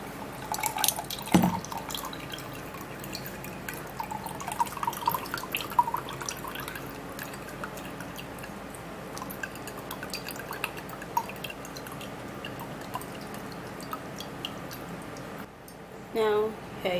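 Cucumber juice dripping and trickling through a manual strainer in a kitchen, a soft continuous patter of drops with occasional squishes, under quiet background noise and intermittent talk.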